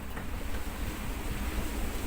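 Waves wash and rush around a sailing boat on the Indian Ocean off South Africa, with a continuous broad surge of water and strong wind buffeting the microphone.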